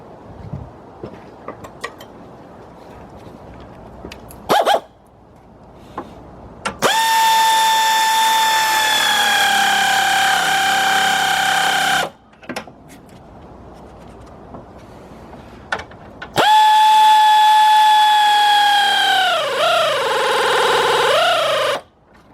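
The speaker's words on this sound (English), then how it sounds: "Let's tighten up our fan shroud bolts." A power drill tightens the fan shroud bolts on a 1999 Ford Expedition with two long, loud whirring runs, the second winding down in pitch, separated by quiet ratchety clicks and tool handling.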